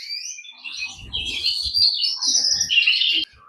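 Pet birds in a bird shed chirp and twitter nearby in a lively, continuous stream of high tweets, with light rustling underneath before cutting off abruptly.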